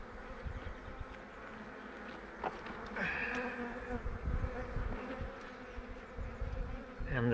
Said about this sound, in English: there's lots of bees flying in and out